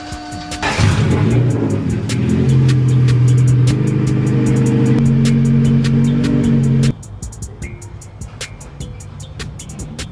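A BMW E36 project car that sat unused for months idles loudly up close, rises in a revving surge, holds a raised note for several seconds, then drops back to a quieter, rougher idle, with no talk.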